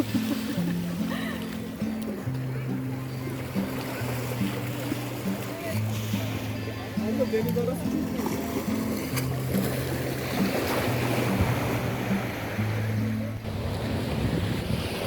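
Rough sea waves rush and wash steadily close by on a stony shore at Esenköy, Yalova, Turkey, mixed with gusting wind buffeting the microphone and a low droning hum underneath.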